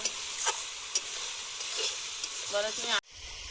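Chicken with turmeric, fenugreek greens and eggplant fries in a pan: a constant sizzle with stirring scrapes, a brief voice near the end, then an abrupt cut.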